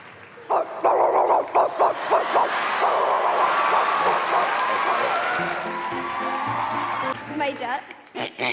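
A girl vocally imitates a dog, producing a rapid run of short, loud barks and yips, then a longer whining howl, followed by more choppy bark bursts near the mic on a talent show stage.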